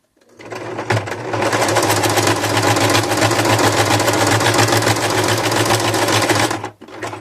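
A sewing machine stitches a seam in one continuous loud, close mechanical whir lasting several seconds, starting and stopping abruptly, with no talking over it.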